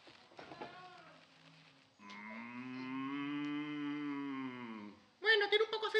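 A person's voice imitates a cow, giving one long, drawn-out moo of about three seconds after some quieter vocal sounds, followed by a loud, abrupt burst of noise.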